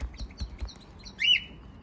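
Captive greenfinch chicks a day or two old in a nest give a thin, high rising cheep after a few soft taps on the nest, brief and faint, with no talking.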